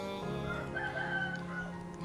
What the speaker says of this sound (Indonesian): ada suara ayam juga